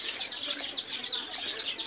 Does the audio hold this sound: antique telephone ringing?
no